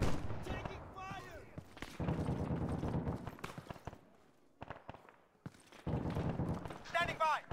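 Gunfire in the military shooter Arma 3: sharp shots crack out at irregular intervals, some near and loud, others more distant, with bursts of clustered rounds and radio-style voices talking in between.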